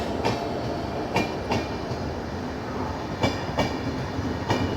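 A DMU train pulls away from a halt on the Jalandhar–Ambala line with a steady low rumble from start to finish and a few sharp clanks from the wheels over rail joints, close by, with no voices.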